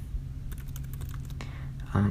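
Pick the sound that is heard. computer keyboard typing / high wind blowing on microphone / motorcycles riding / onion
computer keyboard typing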